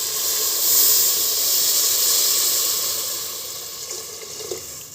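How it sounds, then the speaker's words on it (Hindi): Hot water poured into a pan of sautéed vegetables for pumpkin soup sets off a loud, steady hiss and sizzle that swells and eases slightly over five seconds, with no voices. "अब इसके अंदर हम गर्म पानी डाल रहे हैं।"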